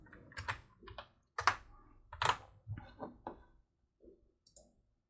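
Typing on a computer keyboard, heard as close, irregular bursts of clacking keystrokes with brief pauses between them and a few soft taps near the end. There is no talk over it.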